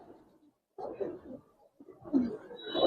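Male pigeons give several close, low, throaty coos in short bursts separated by brief pauses, heard in a quiet indoor setting.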